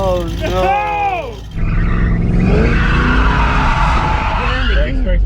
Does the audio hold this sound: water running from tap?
no